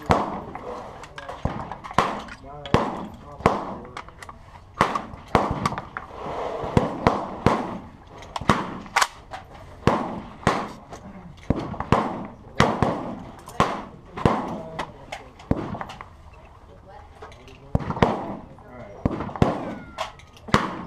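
A Century Arms C93 rifle fires at an outdoor shooting session: about twenty sharp, loud reports spaced a second or so apart, with people talking between the shots.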